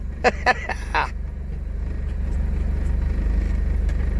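Austin Princess engine pulling away steadily with a Leyland gearbox, its low rumble building gradually after a few short bursts of speech at the start.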